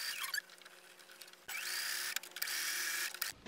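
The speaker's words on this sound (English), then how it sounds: "So now you're going to stitch all the way around about a quarter of an inch." Sewing machine stitching fabric pieces for a pet corner hammock: loud, close whirring bursts of stitching with brief stops, a short pause in the middle and another near the end.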